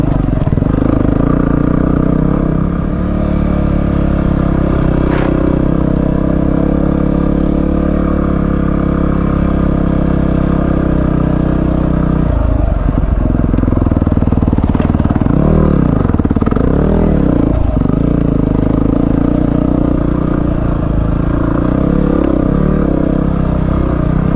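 Dirt bike, Honda CRF450X or WR250R, crossing a log on a trail: loud close engine drone throughout, with surges and dips in revs and clattering bumps midway as the bike works over the obstacle.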